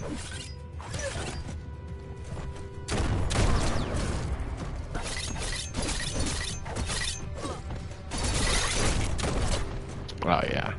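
Cannon fire and chaotic combat in the video game Biomutant, dense bursts of impacts, crashes and mechanical clatter layered continuously, with a heavier blast surge near the start and later swells, all loud and busy.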